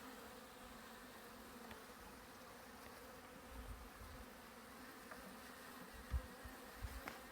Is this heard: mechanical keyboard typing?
no